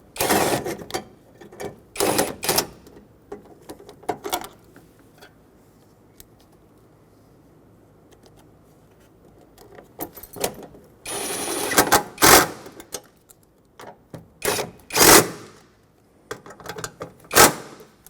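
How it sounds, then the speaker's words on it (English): Mounting bolts for a Ford Excursion coolant reservoir being installed, heard as bursts of ratcheting and mechanical clicks with quiet pauses between, close and fairly loud, no talking. "let's install the 2 mounting bolts holding it on to the bottom"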